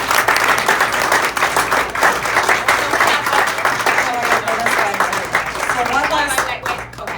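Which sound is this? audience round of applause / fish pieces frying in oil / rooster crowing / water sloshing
audience round of applause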